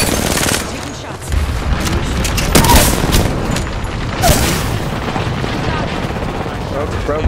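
Rapid gunfire from the battle royale shooter Apex Legends, dense bursts and booming shots running through the whole stretch at loud, close range, with a player's voice talking over the action.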